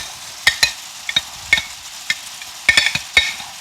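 Mount Olive jalapeños tossed into a hot frying pan send up a crisp sizzle, broken by about ten sharp clacks and taps of utensil on pan in an irregular rhythm, close and fairly loud, with no talking.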